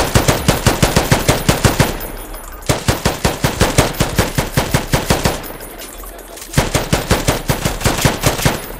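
Automatic gunfire from an AK-style rifle in a Roblox advanced gun system, video game: loud rapid bursts of shots in three long strings separated by brief pauses, no talking.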